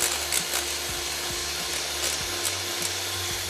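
Eggs are beaten for a sponge cake batter, giving a steady, continuous whirring and humming with faint rhythmic scraping against the bowl. The sound is close and unbroken throughout, with no speech.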